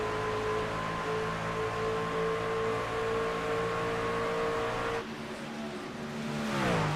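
Racing truck number 24 on the speedway at Kansas, engine droning steadily at high revs with stable harmonics, then a sudden drop at the clutch followed by revs climbing again; loud and close, no talk.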